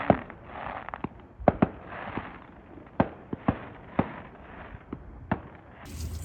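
A fireworks finale set off nearby, with sharp loud bangs spaced irregularly over a crackling, hissing wash, each report close and punchy.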